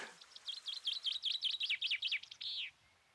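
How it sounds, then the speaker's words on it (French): A chaffinch sings from the top of a fir tree at dusk, giving one clear, fairly close song: a quick descending series of bright chirps that speeds up into a short trill and ends in a final flourish. "Sauf un oiseau. Un pinson. Tout en haut du sapin."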